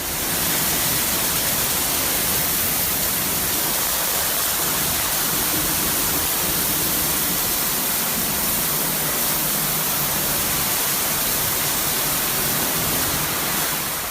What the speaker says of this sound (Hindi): से पानी को ट्रक पर डालकर इस पर मौजूद धूल मिट्टी वगैरह को अच्छी तरीके से साफ करते हैं।